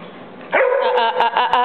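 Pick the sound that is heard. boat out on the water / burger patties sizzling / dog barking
dog barking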